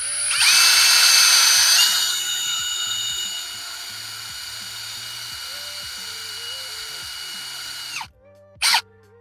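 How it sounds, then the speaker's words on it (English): A power drill bores through polycarbonate and a Miata dashboard, a loud, steady high-pitched whine for about eight seconds that eases slightly as it cuts, ending abruptly with a brief burst afterward. "Now we're gonna go ahead and we're gonna drill through the hole mark that we just made."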